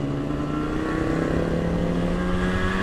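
A 1980 Moto Guzzi 250 TS motorcycle on the move, its engine droning steadily with a buzzing tone that rises slightly in pitch, loud and close with wind rush and no talking.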